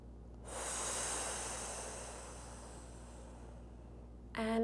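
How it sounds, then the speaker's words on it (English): A single long, soft breath drawn in through the nose and let out through the mouth during a gentle strength workout, a faint airy hiss lasting several seconds, ending as a voice starts talking. "We're gonna take some big inhales and exhales through the nose and out through the mouth."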